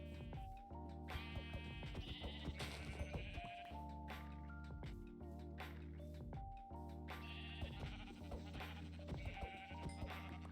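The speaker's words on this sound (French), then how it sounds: "Il y a des moutons." Minecraft sheep bleat repeatedly in a forest during a hardcore survival game, with their wavering, nasal cries coming in overlapping bursts against constant game sound.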